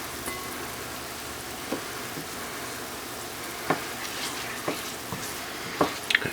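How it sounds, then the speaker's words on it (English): Wine reducing in a pan after pork chops were cooked makes a soft, low bubbling sizzle with scattered faint pops and taps, quiet and close, with no talk. "cook the wine down and deglaze the pan"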